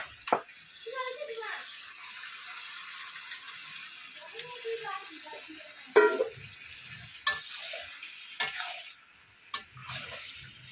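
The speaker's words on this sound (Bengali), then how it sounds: "এবার মাংসটাকে যোগ করে দিয়ে এটাকে মাংসটাকে কষিয়ে দেবো।" Pieces of washed meat go into spice paste already releasing its oil in a pan and begin to fry, a soft sizzle with scattered clatters and sharp utensil knocks over several seconds.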